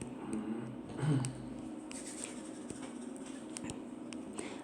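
Chalk or marker writing out an integral on a classroom board, with light scratchy strokes and small taps spread across several seconds, faint against room noise and without speech.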